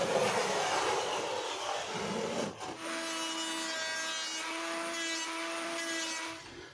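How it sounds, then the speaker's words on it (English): An electric hand planer takes a quarter-millimetre pass at a time off a wooden van lining panel, trimming to a scribed line: a loud broadband cutting rasp, then a steady motor whine with a distinct pitched tone holding for several seconds. "I was just taking 1/4 of a millimetre per pass with the planer, sneaking up on that line that I'd scribed"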